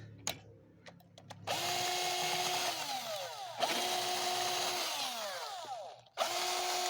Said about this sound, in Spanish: Les digo que yo ocupo este taladro